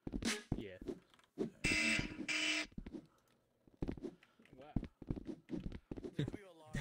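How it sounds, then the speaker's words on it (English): In a video game, a loud alarm gives two harsh buzzing blasts back to back, set among voices talking before and after. "A loud alarm."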